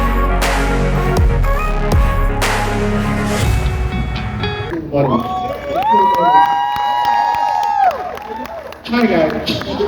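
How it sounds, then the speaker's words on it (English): A summit audience claps and cheers loudly as a speaker takes the stage, with shouting, whoops and voices mixed into a dense crowd roar that swells and dips over the clip. "Please keep clapping. Keep clapping."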